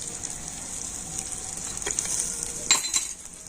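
Whole cumin, crushed ginger and green chili fry in oil with a soft steady sizzle, a few utensil clinks near the end, no talk.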